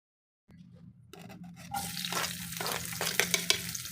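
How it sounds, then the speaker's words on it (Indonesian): Ground chili and tomato paste hitting a hot pan and being stir-fried for Indonesian balado, starting with a sudden hiss that swells into a loud, steady sizzle with scraping stirring close by. "Kita tumis dulu sampai wangi."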